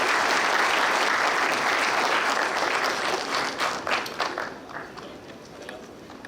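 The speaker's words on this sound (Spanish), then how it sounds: "les pediría un aplauso, por favor, de bienvenida para la doctora Teresa Margarita González" A seminar audience gives a welcoming round of applause for a doctor taking the stage at a water management symposium, a broad, full wash of clapping that gradually thins and fades near the end.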